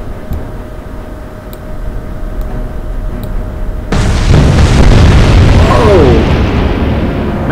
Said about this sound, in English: Magazine detonation.